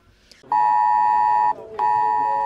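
Loud steady electronic alert tone of an IT-Alert public emergency warning test, a sustained beep of about a second, a brief gap, then the tone sounding again, strong and close.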